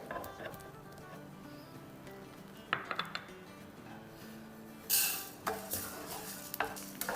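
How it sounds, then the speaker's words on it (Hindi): Edible gum (gond) frying in ghee in a pan, a low sizzle under repeated scraping and stirring clatter, with a few louder bursts of crackling toward the end. "बाकी गोंद भी कर लेते हैं फ्राई"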